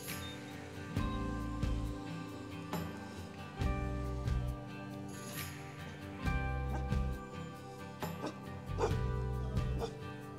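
A dog barks in short bursts and yips, spaced irregularly over the steady mechanical hum of a Ruko F11GIM2 drone with faint clicks.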